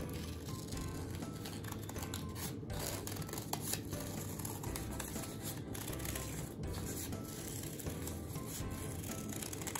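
Scissors cutting a fish shape out of paper, a steady close rustling and snipping texture that runs on continuously without pauses or voices.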